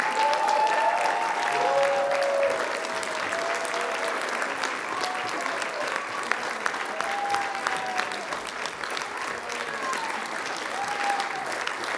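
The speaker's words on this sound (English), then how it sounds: "please come out on stage so we can give you a big round of applause" Sustained applause from a live audience on stage thanking the backstage crew at a livestreamed event, steady and dense throughout, with cheering voices and whistles rising over the clapping.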